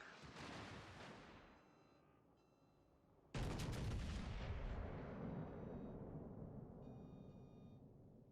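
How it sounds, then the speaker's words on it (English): Heavy naval guns fire shells at the battleship Bismarck in World of Warships Legends. Two loud booming salvos, the second bigger, each rolls into a long fading rumble, with faint metallic game tones above. "So I'm just going to have to continue lobbing shells towards the Bismarck."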